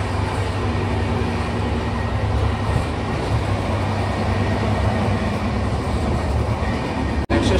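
A passenger train with a Vistadome coach runs from Visakhapatnam toward Araku, heard from inside as a loud, steady rumble and rattle of wheels on track that continues without a break.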